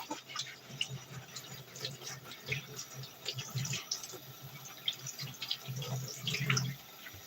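Vegetables rinsed under running water and scrubbed with a small scrub pad before peeling, faint trickling and splashing with soft scrubbing, heard alongside a speaking voice.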